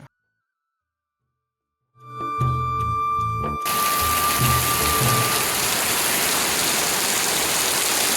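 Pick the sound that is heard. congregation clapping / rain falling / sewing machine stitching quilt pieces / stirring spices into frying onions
rain falling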